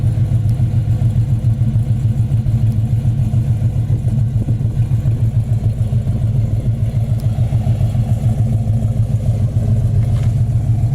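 Black 1970 Chevy Chevelle Super Sport with a 396 engine and dual exhaust with new chrome tips idles in a deep, steady, lumpy rumble, close and continuous, with no voices.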